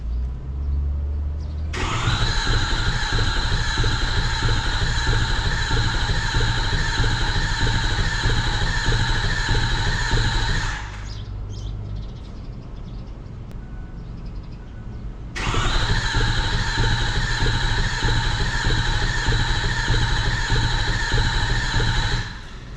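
A Ford 6.4 Power Stroke diesel cranks in two long bursts, its starter grinding steadily for about nine seconds, pausing briefly, then grinding again without the engine ever catching; loud and close, no voices.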